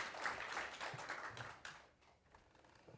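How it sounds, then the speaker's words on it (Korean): Attendees at an agency heads' meeting clap together in a brief round that is soft and dense and fades out toward the end. "박수 한번 칠까요?"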